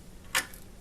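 A laptop memory module snaps into its slot inside a Toshiba Satellite S500Z during a RAM upgrade, making a single sharp, close click against a quiet background.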